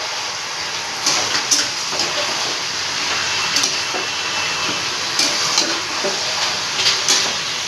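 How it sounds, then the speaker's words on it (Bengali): Vegetables with ridge gourd for pui shak chachori hiss loudly in a pan, while a utensil stirs them in several sharp, scraping bursts. "তো আমি সবজিগুলোকে ভালো করে নেড়ে দিচ্ছি"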